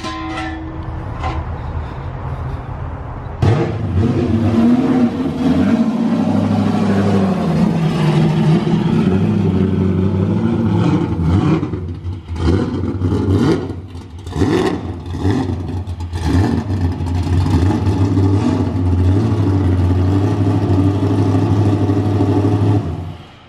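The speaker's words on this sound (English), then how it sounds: "Let me take the Mustang for a spin real quick." Ford Mustang with a 408ci LS engine idling roughly, then revving repeatedly in loud, close bursts with a deep, lumpy exhaust note and clattering mechanical noise throughout.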